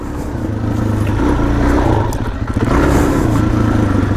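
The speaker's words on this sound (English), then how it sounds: "That's my new bike. DRZ400sm." Suzuki DRZ400sm supermoto, a 2017 model on stock supermoto tires, running steadily and close by, its engine note rising and falling slightly as it revs, with no talk over it.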